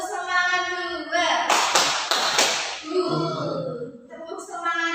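Short bursts of rhythmic hand claps from a class of children doing a 'tepuk semangat' clapping chant, mixed with the children's chanting voices throughout.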